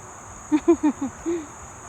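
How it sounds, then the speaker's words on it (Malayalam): A farm duck gives a short run of five nasal quacks, fairly close and distinct over a quiet background hum, with no talking. "നമ്മുടെ താറാവുകളൊക്കെ നോക്കിക്കേ ഒരു സ്ഥലത്ത് കിടക്കാണ് അവരൊക്കെ"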